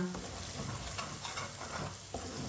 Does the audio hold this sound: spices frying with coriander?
yes